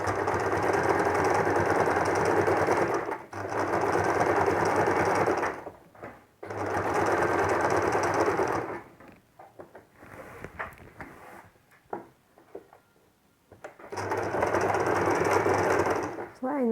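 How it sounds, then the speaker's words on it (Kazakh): A sewing machine stitches an ornamental pattern onto fabric for a patchwork quilt, running in loud, steady bursts separated by short pauses, with quieter stretches of handling noise and someone talking between runs. "тек оюның үстімен тігіп шығамыз."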